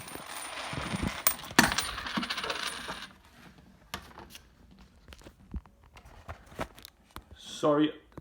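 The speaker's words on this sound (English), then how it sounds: "I dropped the coins to hold the video" Coins drop and clatter onto a surface in a quick burst of metallic clinks, followed by scattered rustling and small handling noises, then a brief louder scrape near the end.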